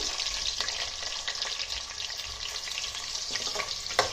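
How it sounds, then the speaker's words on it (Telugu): Sliced onions frying in hot oil for Tamil Nadu–style Ambur chicken biryani, a steady dense sizzle with light stirring scrapes, close and alone without voices. "ఇప్పుడు దీనిలో మనం ఈనుల్లా కట్ చేసి పెట్టుకున్న ఉల్లిపాయ ముక్కల్ని వేసేస్తున్నానండి"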